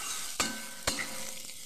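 Bitter gourd being lightly fried with ginger and tempering spices in a pan, an even sizzle broken by two sharp clacks of a spoon or spatula, close up with no speech.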